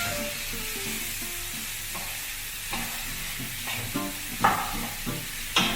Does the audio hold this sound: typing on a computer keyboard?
no